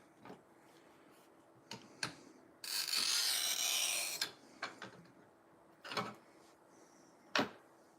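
Scoring and cutting a piece for a pumpkin craft: a quiet room with a sustained rasping rub lasting about a second and a half, surrounded by scattered soft taps and knocks.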